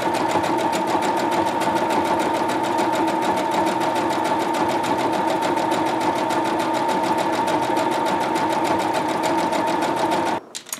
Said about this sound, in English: And then start sewing.